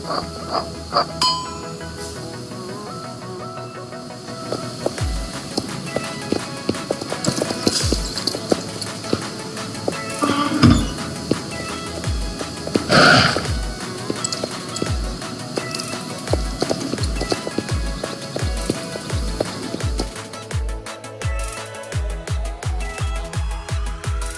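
Shod hooves of a horse clip-clop steadily as it is led in hand toward a meadow, the even metallic footfalls growing clearer and more regular toward the end, with faint outdoor background sounds around them.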